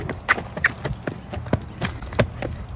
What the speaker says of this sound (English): And look, he's even got a nice canter in there.